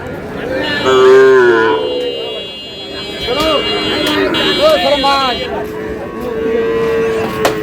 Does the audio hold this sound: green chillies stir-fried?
no